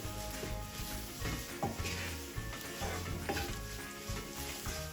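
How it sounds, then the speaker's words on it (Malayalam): Garam masala and onion mixture for kadala curry frying in a pan, a steady close sizzle with repeated scraping stirs of a spoon running throughout, no voices. "ഇനി ഗരം മസാല ചേർത്തു ഒരു മുക്കാൽ ടീസ്പൂണോളം ഗരം മസാല ചേർത്തു ഇതെല്ലാം കൂടെ ഒന്ന് മൂത്ത് കിട്ടട്ടെ കേട്ടോ"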